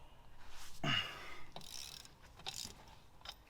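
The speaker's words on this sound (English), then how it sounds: "the best bet is to get yourself on a ratchet and put yourself a screwdriver in the groove of the disc" Ratchet clicking while a wheel bearing is removed from a Ford Focus ST225, a few short, close mechanical bursts with a louder grinding click near the start and fainter clicks after, in a quiet workshop.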